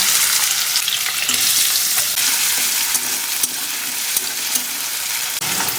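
Whole cloves, cardamom and cinnamon fry in oil with chopped onion, ginger and garlic, making a loud, steady sizzle and crackle throughout, with occasional clicks of stirring and no talk.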